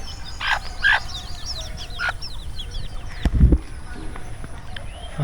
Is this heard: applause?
no